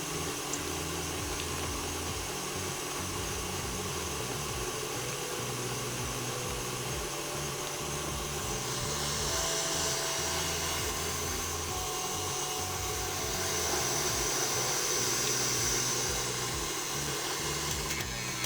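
An electric mixer whisks a sugar mixture on low speed in a home kitchen, a faint, steady whirring hum that runs without pause and with no voices.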